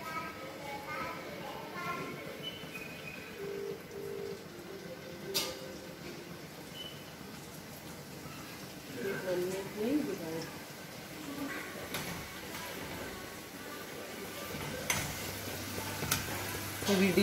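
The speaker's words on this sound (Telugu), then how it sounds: "ఈ గవర్ని డీప్ ఫ్రై చేసుకుందాము." Gavvalu, small shell-shaped dough pieces, deep frying in hot oil for a jaggery sweet, giving a steady sizzling bubble with occasional stirring clinks and some nearby voices.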